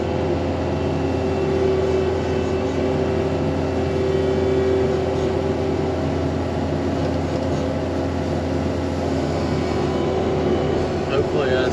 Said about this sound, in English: I'm gonna try to take the skid steer and dump a little bit of gravel here.